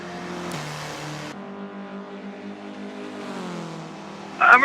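A Myers-Manx dune buggy engine in a racing video game, droning steadily and shifting pitch as it accelerates, with a brief harsh burst at the end.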